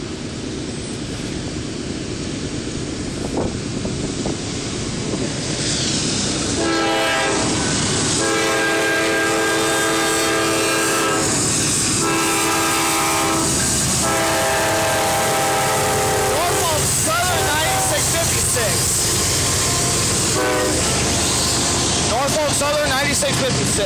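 Norfolk Southern freight locomotive 9656 passes through Effingham, Illinois, blowing a loud, sustained multi-tone horn over the heavy rumble of the train, very close, with people talking over it.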